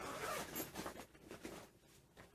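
A large zipper on a nylon duffle bag is pulled across its length in a quick run of scratchy, ratcheting sweeps, sounding close with no voices.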